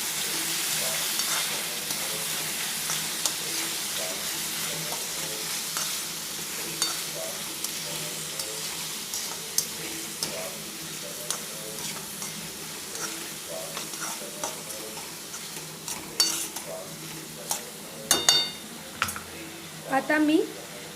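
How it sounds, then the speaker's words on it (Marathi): Tomato and onion stir-fried in a pan for veg hakka noodles, a continuous close sizzle broken by frequent scraping and clacking strokes of the spatula, growing sharper toward the end. "आता टोमॅटो आणि कांदा आपण परत व्यवस्थित मिक्स करून घेऊया।"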